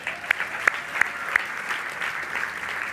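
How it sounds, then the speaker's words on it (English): Sparse clapping from a church campmeeting congregation, a few distinct claps standing out over a light, steady patter that fades gradually. "we can clap for her."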